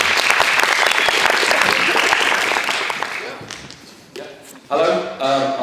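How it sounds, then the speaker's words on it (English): An audience at a student JCR college meeting claps loudly for about three seconds, then the applause thins into scattered claps before a voice begins speaking near the microphone. "A round of applause, please."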